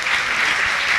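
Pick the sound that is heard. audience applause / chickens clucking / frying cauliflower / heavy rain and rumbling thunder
audience applause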